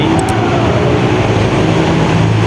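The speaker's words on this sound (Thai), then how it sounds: "บรรยากาศริมถนนสะพานใหม่" Steady, loud roadside traffic rumble along Saphan Mai road, engines droning continuously nearby, no voices.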